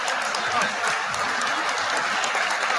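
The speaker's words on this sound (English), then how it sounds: "They're applauding." Applause from an audience in a televised setting, a dense steady wash of clapping throughout with faint voices mixed underneath.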